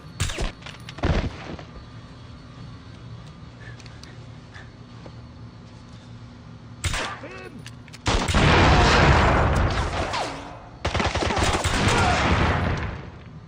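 Gunfire in a James Bond 007 Blood Stone shootout in Siberia: sharp isolated shots early, then loud sustained bursts of automatic fire and heavy barrages filling the later half, with shouted voices in between.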